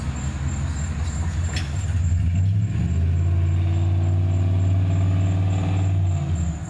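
A passing car accelerates along a nearby road, its engine rising to a loud, sustained low rumble that swells midway and holds steady, with a faint high whine running throughout.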